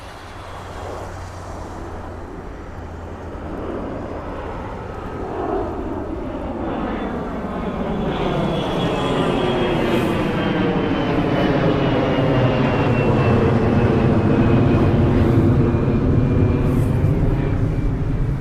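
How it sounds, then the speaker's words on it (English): An Air Canada Boeing 737 MAX 8 jet departing Toronto Pearson for Mexico City in cold weather, its engine roar building steadily and sweeping past with a falling whine, loud and continuous. "We have another Air Canada going to Mexico City, 737 MAX 8."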